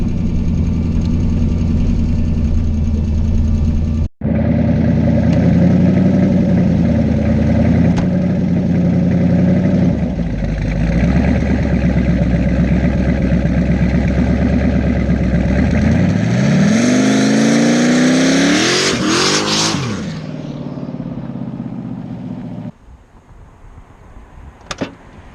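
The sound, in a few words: Chevstang car engine revving at full throttle, no two-step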